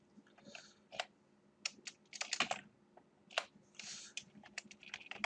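Close typing on a computer keyboard while entering account details during a Fedora Linux setup, irregular bursts of key clicks with short pauses between them.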